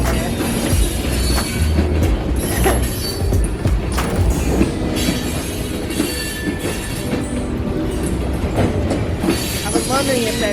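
A freight train of roughly 20 to 25 cars rolls past on an active track, loud and close, with continuous rumbling, rhythmic wheel clacks and occasional metallic squeals throughout.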